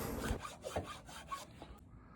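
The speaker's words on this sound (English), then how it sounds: "I had to do a lot of filing here just to get it right." Short rasping strokes of a file on the wooden edge of a cutting board for a boat fillet table, several close, rhythmic rubs over about two seconds with no speech.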